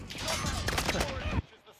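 Rapid automatic gunfire in the shooter game Warzone rattles out in a dense, loud sustained burst for over a second, then cuts off abruptly into near silence.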